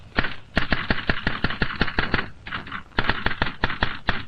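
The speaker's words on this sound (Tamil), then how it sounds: "தனியா உட்கார்ந்து என்ன டைப் பண்றீங்க?" Typewriter keys strike in quick, sharp clacks. Two bursts of rapid, even typing are broken by a short pause, close and crisp with no talking.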